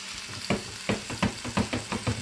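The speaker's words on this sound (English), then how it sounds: "We're going to brown it" Roast beef browning in a nonstick pan, with a steady low sizzle broken by several sharp bursts of spitting as the meat shifts, fairly close and without talk.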